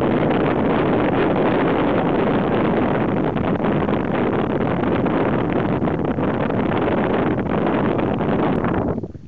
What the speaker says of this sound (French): Rafale de vent.